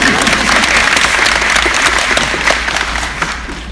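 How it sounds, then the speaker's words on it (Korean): Lecture audience breaks into loud, sustained applause, many hands clapping together in a hall, gradually easing toward the end. "어이없는 데서 박수를 받아가지고 감사합니다."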